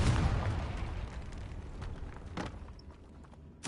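In Hogwarts Legacy, a Confringo blasting spell sets off a loud, close explosion with a booming low rumble that decays over a few seconds, then sharp crack-like bursts follow, the last one abrupt at the end.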